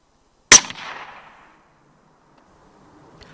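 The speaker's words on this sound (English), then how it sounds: "another shot in the distance spooks the buck" A single rifle shot cracks sharply at a distance, its echo decaying within about a second and leaving near silence, with a faint knock afterwards.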